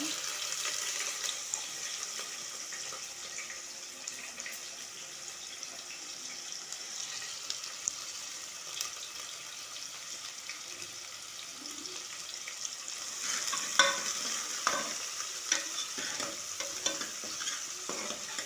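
Onions fry and sizzle steadily in a pan as a festival offering is cooked, with intermittent scraping stirs that grow a little more active toward the end; no one speaks.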